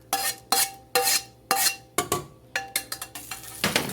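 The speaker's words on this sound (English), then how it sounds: "we just want to take it and we want to put it right in the pot with our beans" A bacon mixture scraped from a pan into a pot of charro beans, a series of sharp metallic spoon knocks and scrapes at a steady rhythm, close and clear, ending in quicker clatters.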